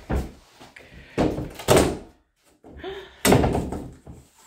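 An old door is pushed and thuds several times in uneven bursts, with knocking and scraping between them and a short silence midway, close and moderately loud.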